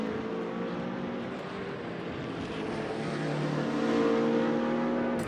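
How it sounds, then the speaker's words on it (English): BMW M6 and Z4 race cars lapping Laguna Seca in a racing game make a steady, dense engine drone that swells slightly, loud and continuous without talk. "The big BMW versus the smaller Lithur Z4 driven by Wesley Stokes."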